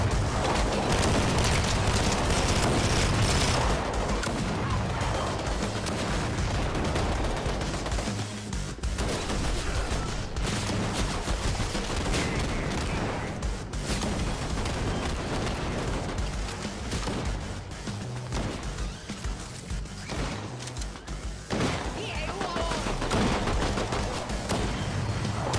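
Dense, continuous video game gunfire, loud rapid bursts and booms layered into a constant roar with no clear gaps across the whole stretch.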